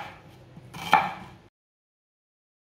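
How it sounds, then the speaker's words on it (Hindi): A knife cuts through an onion on a board, slicing it into long pieces, making one short, sharp chopping burst with a faint scrape before silence, and no voices. "इसी तरह ना सारे प्याज को कट कर लेना है। लंबे लंबे पीसों में कट करना है इसे।"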